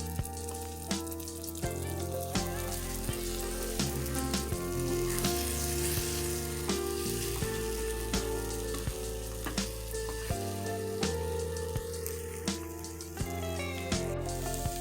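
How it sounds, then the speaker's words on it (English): Eggs being scrambled in a hot pan give a steady close sizzle and frying crackle with occasional scraping and stirring clicks throughout, no voices. "Now you can go on and cook your eggs."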